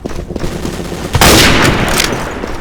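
Gunfire in a video game with a sniper rifle chosen, a loud sharp blast followed by a sustained crackling roar of shots and echo, no voices.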